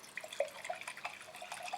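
Vinegar poured from a bottle into a small half-litre jar makes a faint, quick trickle with light splashes and drips over a brief stretch.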